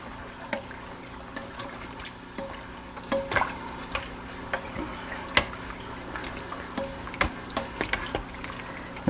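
Finely diced potatoes are stirred into a liquid soup base for zuppa toscana, giving quiet wet sloshing with scattered soft knocks and clicks of the spoon against the pot.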